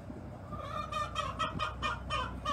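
Rhode Island Red chickens, a hen near a rooster, cluck in a farmyard coop, with a series of short rhythmic clucks and calls repeating over a low background hum.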